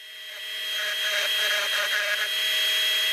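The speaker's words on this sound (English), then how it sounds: "I'll clamp the drill to my workbench and put another clamp on the trigger so that the drill keeps spinning." An electric drill clamped to a workbench, trigger held down, spins a spindle sander bit at a knife handle, giving a steady high motor whine that swells over the first half second and then holds.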